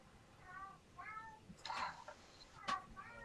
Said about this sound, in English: Was his cat just saying hello?